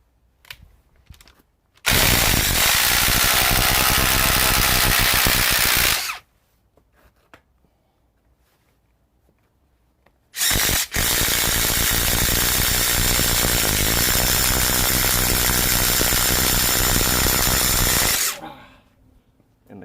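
A Ryobi impact driver boring through wood with a paddle bit makes two long, loud, steady bursts of whirring and hammering, split by a quiet pause. No one speaks.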